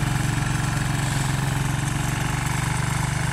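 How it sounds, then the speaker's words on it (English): A tractor fitted with a snowblower attachment and tire chains idles close by, its engine chugging in a steady, even rhythm with no voices over it. "got the snowblower on the tractor."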